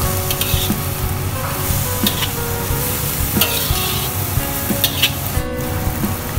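Water hits a hot wok of Singapore stir-fried noodles and sets off a loud, steady sizzle, with stirring clanks and scraping over the continuous hiss.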